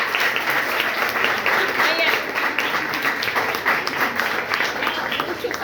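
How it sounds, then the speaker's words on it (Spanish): Students in a classroom applauding steadily for several seconds, a dense, even wash of clapping at moderate loudness, with faint voices mixed in underneath. "Muchos aplausos"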